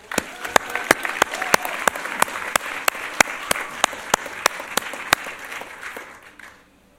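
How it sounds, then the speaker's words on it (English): Audience applause at an evening event on justice and the prison system, a dense steady patter of many hands with a few sharp louder claps standing out, holding for several seconds before fading away near the end. "Let's give them all a round of applause."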